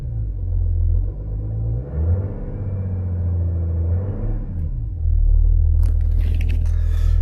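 A car engine idles in park, then the accelerator is pressed and it revs up to a held, rising drone before dropping back to idle. The engine is loud and close, with a brief rattle near the end.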